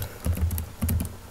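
Typing on a computer keyboard while searching for a Minecraft 1.5.1 custom NPCs mod: two short bursts of quick, soft clicking, close and fairly quiet, with no talking.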